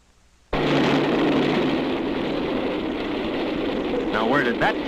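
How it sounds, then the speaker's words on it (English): A Union Pacific train draws near a railroad crossing in 1959, heard as a loud, sustained broadband roar and rumble that starts abruptly and holds steady, with a few higher screeching tones near the end. "As this train approaches, let's see how close it comes before we hear it."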